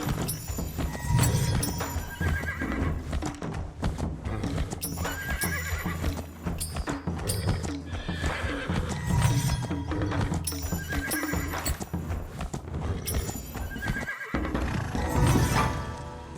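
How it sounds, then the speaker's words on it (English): A horse in the video game Where Winds Meet neighs repeatedly over steady clip-clopping hooves, with dense game music and ambience playing loudly throughout. "we've just captured a horse,"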